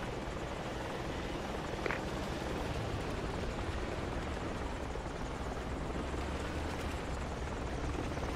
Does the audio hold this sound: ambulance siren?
no